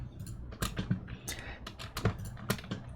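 Computer keyboard keys are pressed in quick irregular clusters, Tab and Ctrl+Tab among them, soft clicky taps close by in a quiet room.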